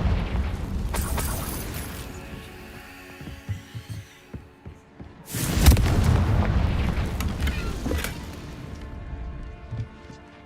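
Two heavy blasts from a Confringo spell in the Hogwarts Legacy video game go off, each a booming burst with rumbling low-end decay, separated by quieter thuds and hum.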